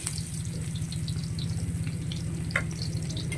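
Onion frying in a pan at home, a steady dense sizzle with a rapid rhythmic crackle throughout, close and fairly loud, with a few small clinks on top.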